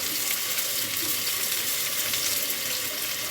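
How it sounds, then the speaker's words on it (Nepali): Fish and onion lightly frying in a pan give a continuous, even sizzle, close and moderately loud, with no pauses and no voices. "हल्का फ्राई गर्ने यसलाई।"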